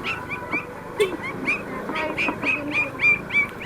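Hungry puppies whine and whimper in a repeated series of high, short cries, close and fairly loud, with faint background noise.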